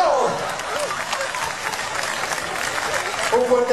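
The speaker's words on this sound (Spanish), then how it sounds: "Un fuerte aplauso" Applause from an audience at a 50th anniversary Expo 50 comedy show, a steady moderately loud clatter of clapping lasting a few seconds, with voices and a shout audible over it.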